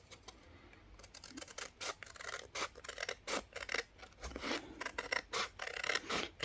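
Scissors snip through journal paper in a quick run of crisp, close cuts, steady and rhythmic over a quiet background.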